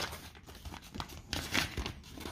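Close, crisp crinkling and rustling of oiled paper wrapping engine parts being handled in a garage, with a few sharper tearing crackles.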